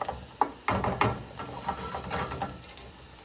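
Shallots and garlic cooking in a pan for kale and pistachio crostini, a soft sizzle under irregular scraping and tapping as the pan is stirred, close and moderately quiet.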